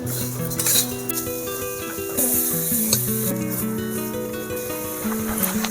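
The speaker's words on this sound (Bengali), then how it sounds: "সবজি ভাজার আগে চাল আর ডালটা ঠিক এইরকমভাবে আমি একটু ভেজে নেব।" Rice and lentils frying in hot oil in a pan for chicken khichuri, a steady close sizzle with occasional stirring scrapes, under a melodic tonal background.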